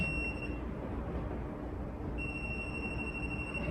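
A Home Depot stud finder beeping as it detects a wall stud, a steady high electronic tone that cuts out briefly and resumes over a low background hum.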